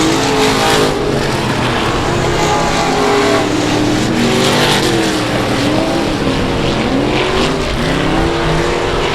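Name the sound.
race cars racing at South Texas Speedway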